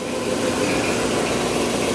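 A Romi M17 CNC combination lathe, 17 by 43 inches, runs at speed with a steady, even mechanical hum and broadband whir, continuous and unchanging throughout.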